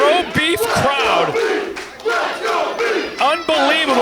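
A loud, packed pro wrestling crowd in Yarmouth shouts and cheers during a Limitless Wrestling match, with overlapping yells and chants swelling in waves over four seconds.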